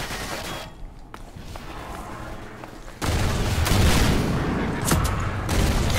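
Gunfire and explosions in Half-Life 2 Episode One: a heavy booming blast hits midway and gives way to a rumbling, sustained barrage with a few sharp cracks, after a quieter stretch with isolated shots.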